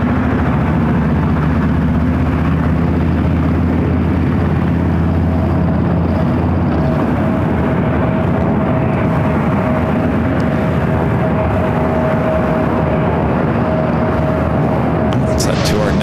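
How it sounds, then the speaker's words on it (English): Super-heavy jet airliner taking off from runway 24 left at LAX, a loud sustained low engine roar filling the whole stretch at steady intensity, with a voice talking over it. "Alright, our second super takeoff of the day."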